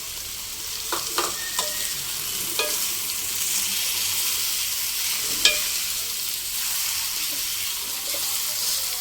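Chopped boiled egg cubes for an egg roll are stirred into a sizzling pan, with steady frying hiss throughout and a few sharp clinks of the spatula against the pan.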